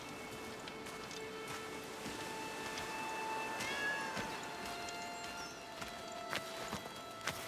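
Cats meowing in the video game Blacktail, faint mewing calls over a steady outdoor ambience with light patter, fairly quiet throughout.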